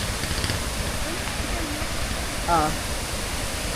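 A strong river current rushes in a steady, broadband wash at a nature camp in Dolores, Quezon, loud and close with no break, and a voice briefly rises over it near the end.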